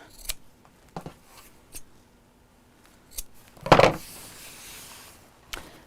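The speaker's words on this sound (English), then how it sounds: "let's snip off the corners, just to cut down on the bulk" Scissors snip the corners off sewn fabric lining: a handful of sharp, separate cuts spaced across the stretch, one louder and longer crunch midway, close by in an otherwise quiet room.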